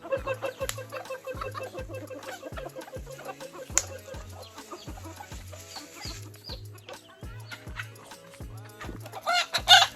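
A flock of farm chickens clucks continuously at close range during feeding, with overlapping calls and a louder burst of squawking near the end.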